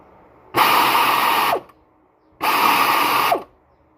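A power tool drives screws into the clutch pump of a Proton Saga FLX in two separate bursts of about a second each. Each whirring burst cuts off sharply, with near silence in between.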